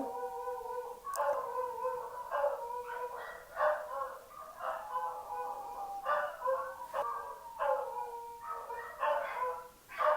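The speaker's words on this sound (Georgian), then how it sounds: "ეს არის ჩემი ძაღლი" A small pet dog nearby gives a string of short yips and whining barks, coming in irregular bursts with brief pauses.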